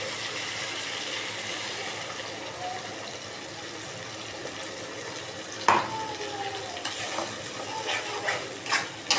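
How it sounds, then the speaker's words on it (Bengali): Ginger, garlic and cumin paste fries in oil with softened onions for a chicken curry, giving a steady low sizzle with scattered stirring scrapes and a few sharper clinks near the end. "আদা রসুন জিরে পেস্টটা ভালো করে কষিয়ে নেব।"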